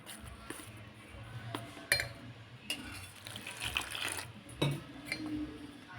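Water trickles little by little into a bowl of batter for cauliflower manchurian, with soft splashes, faint clinks of a utensil against the bowl and light stirring, fairly quiet and close.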